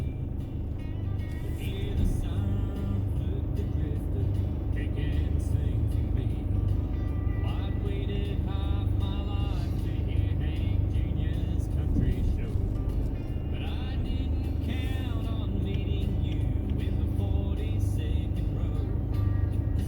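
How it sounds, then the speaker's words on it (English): Cars pass in traffic on a road, a steady low engine and tyre rumble with vehicles swelling and fading by, while speech is heard throughout. "I no sooner get a break in the traffic, cars behind come."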